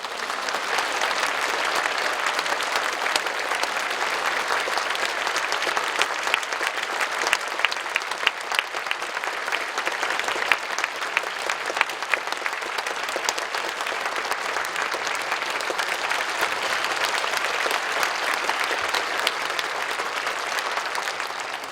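A church congregation applauds vigorously, with sustained, dense clapping from a large crowd filling the hall for over twenty seconds without pause.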